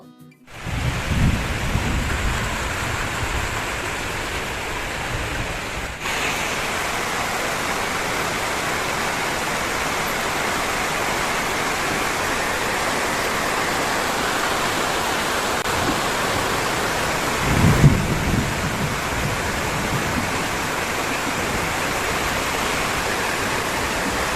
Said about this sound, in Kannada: ਒ಂದ್ ಎರಡ್ ಅವರ್ ಮಳೆ ಬಂತು